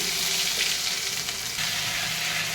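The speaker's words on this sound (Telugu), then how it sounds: "అల్లం వెల్లుల్లి పేస్ట్ ఆయిల్లో మంచిగా వేగనివ్వాలి." Ginger garlic paste fries in oil and butter for palak paneer, producing a loud, continuous close-up sizzle with faint stirring scrapes and no speech.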